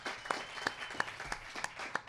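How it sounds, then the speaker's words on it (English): Scattered clapping from a small audience at a wrestling promotion's anniversary party in the Chicagoland area, quiet and thin, with a few sharper distinct claps standing out from the light patter. "Give them a round of applause."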